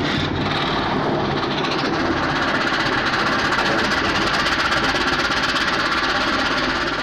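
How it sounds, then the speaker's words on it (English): A Russian S-300 missile fails after launch and falls back, heard as a loud, sustained roaring rumble with rapid crackling pulses that runs unbroken from start to finish. "After the launch, the rocket flew 10 meters up, the engine failed to start,"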